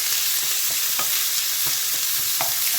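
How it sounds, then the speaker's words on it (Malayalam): Crushed onion and ginger frying in hot oil with popped mustard seeds for a shellfish (clam meat) fry, a steady close sizzle with a few soft stirring clicks and pops and no talking. "ഇപ്പം കടുക് പൊട്ടി എണ്ണയ്ക്കകത്ത് ചതച്ച് വെച്ചിരിക്കുന്ന ഉള്ളി എല്ലാ സാധനവും കൂടി ഇതിനകത്തിട്ട് ഇഞ്ചി എല്ലാം കൂടെ"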